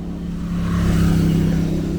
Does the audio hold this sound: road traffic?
yes